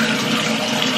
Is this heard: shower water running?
yes